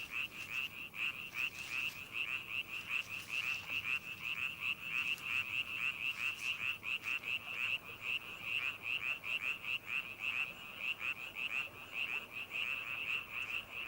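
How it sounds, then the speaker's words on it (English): Male Chinese tree frogs croak in a swampy Ussuriland forest, a dense chorus of rapid, regular pulsing calls that keeps a fast rhythm throughout and sounds moderately distant. "male Chinese tree frogs engage in croaking tournaments"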